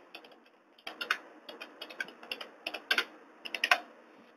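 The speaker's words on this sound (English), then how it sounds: "So let me type it." Fingers tap out quick, irregular bursts of keystrokes on a computer keyboard, close and fairly quiet, with short pauses between clusters of clicks.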